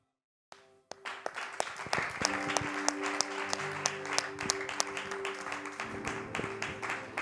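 Congregation in a church service bursting into loud, sustained applause and cheering, dense clapping building within the first second and holding steady with occasional whoops, a few voices heard over it.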